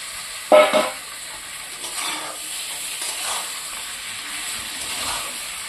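Chicken pieces, marinated in turmeric and salt, drop into sizzling fried spice paste in a pan for a poultry curry: a sharp burst of sizzle near the start, then a steady hiss with soft stirring scrapes.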